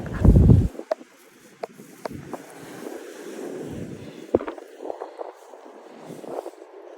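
Wind gusting across a beach, a steady low rush with rising and falling buffeting, heard alone without voices.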